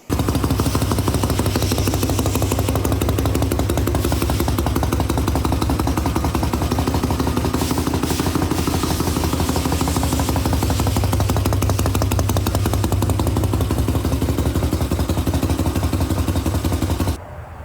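A custom Evo Sportster chopper motorcycle engine runs close by on a cold, snowy day, giving a loud, even, rapid pulsing chug that holds steady for about seventeen seconds before cutting off abruptly.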